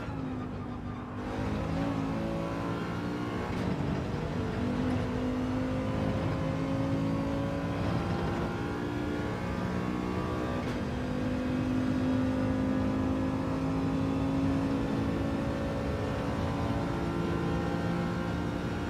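A Nissan GT-R race car in Gran Turismo 7 at Monza holds a steady, loud high-revving engine drone with rising gear pitch, continuous and alone for the whole stretch.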